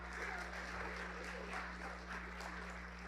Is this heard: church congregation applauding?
yes